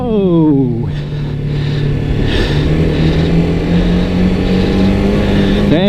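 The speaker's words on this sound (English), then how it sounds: "the engine brake is actually quite strong because it's a single cylinder" A TVS Apache 310 RR single-cylinder motorcycle engine braking on a Singapore road, loud and close, revs dropping sharply then holding a steady droning hum before climbing again at the end.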